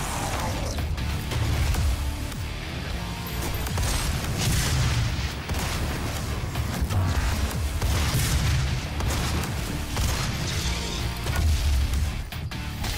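Heavy, booming explosions and crashing debris after a bomb is shot in DOOM, a sustained loud barrage of deep blasts and rumbling impacts that keeps rolling without letting up.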